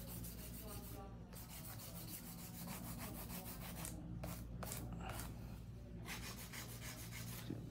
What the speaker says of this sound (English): I'm about to finish here with the hand filing because a lot of these are very smooth.